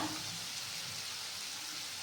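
Onion, ginger and garlic paste frying in a pan for a cauliflower bhapa dish, giving a steady, even sizzle with faint stirring and no voices.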